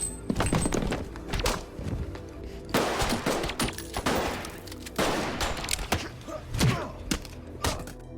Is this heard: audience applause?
no